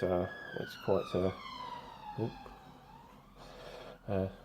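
An ambulance siren passing outside, a faint wailing tone sliding slowly downward in the background beneath someone talking in short bursts close by.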